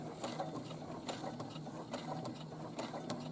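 Sewing machine stitching the center front fly seam of shorts, a faint, steady rapid whir of the needle with light rhythmic clicking, running continuously without talk.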